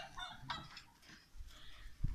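Turkeys grazing in a garden give soft clucks and honking calls, a few scattered bursts at moderate distance against quiet outdoor background.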